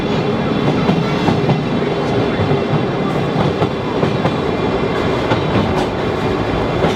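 Old Sagano Romantic Train, a sightseeing railway in Arashiyama, Kyoto, rolling steadily along its tracks, a continuous loud rumble with rhythmic clickety-clack of the wheels and a few faint squeals, no voices.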